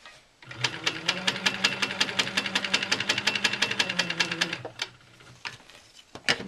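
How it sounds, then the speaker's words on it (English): A sewing machine stitching a quilt block seam, a rapid, even run of needle strokes for about four seconds that then slows to a few separate clicks and soft handling noises. "stitching up the side until my foot hits the piecing line up here"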